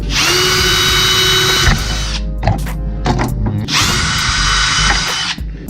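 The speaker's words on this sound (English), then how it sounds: "we just need to go ahead and drill these out" A power drill whines loudly in two long bursts while drilling out holes for a Subaru BRZ phone mount, with clattering and handling noises in the pause between them.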